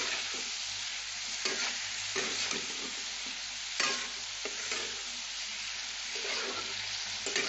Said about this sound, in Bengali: চিনিটা পরে দিচ্ছি। এটা এখন একটু নেড়ে চেড়ে নিতে হবে।